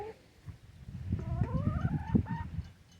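Several chickens clucking and calling close by, a few drawn-out rising notes among short clucks, fairly soft.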